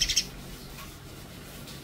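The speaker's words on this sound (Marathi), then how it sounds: "या पक्ष्यांचा जो किलबिलाट आहे तो आपल्या सगळ्यांपर्यंत पोहोचावा" Baya weaver birds at their nest in a garden give a few quick, high chirps right at the start, then fade into a soft outdoor hiss.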